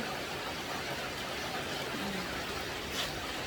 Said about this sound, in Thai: ฝนตกอย่างหนักเลย